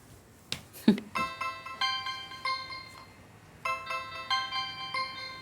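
A phone ringtone plays a repeating melody of bright tonal notes, quiet and clean. It rings in two separate bursts, with a couple of soft knocks just before it starts.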